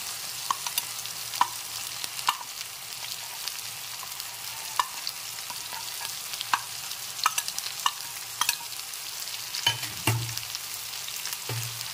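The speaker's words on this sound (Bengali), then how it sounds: "এখন সব কিছু সবজি একসাথে দিয়ে ভালো করে নেড়ে চেড়ে ভেজে নিচ্ছি" Radish, potato and eggplant stir-fry together for a dried-fish curry, a steady hiss of frying oil under repeated sharp spatula scrapes and clacks against the pan, close and fairly loud, with no one speaking.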